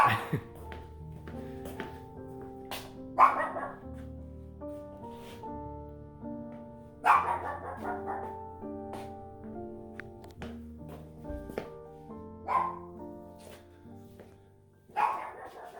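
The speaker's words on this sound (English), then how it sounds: "I don't think the puppy's happy I'm here." A small dog barks in sharp bursts, spaced several seconds apart, over quiet background music.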